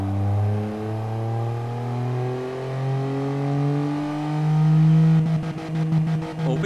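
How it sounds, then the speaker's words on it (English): An inline-3 engine revs in Automation, a steady, buzzy drone that climbs gradually in pitch and turns choppy and stuttering near the top, with no one talking. "That bizarre inline 3 sound."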